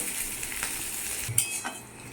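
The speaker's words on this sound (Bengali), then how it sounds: "পেঁয়াজটা হালকা ভাজা হয়ে গেছে" Chopped onion frying in oil for a jackfruit kofta curry, a soft continuous sizzle with a couple of light utensil scrapes and clinks against the pan.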